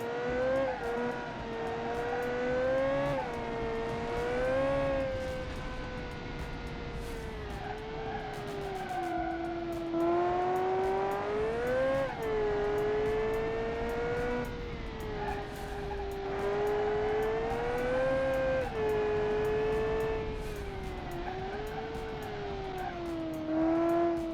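A race car in a power-to-weight ratio challenge makes its single timed test lap, the engine revving loud and continuous and rising and falling through gear changes and corners for the whole stretch, with a few tire squeals mixed in.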